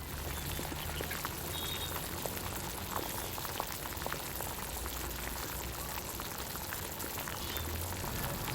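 Bhajiya frying in hot oil at a roadside street cart, a steady dense crackle and bubbling sizzle that stays even and fairly quiet throughout, without talk.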